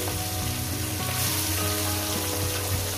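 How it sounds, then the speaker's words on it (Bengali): Rohu fish pieces fry in hot oil, giving a steady, close sizzle that runs without a break alongside a faint tonal background. "আমি 3 পিস করে নিয়ে ভাজছি"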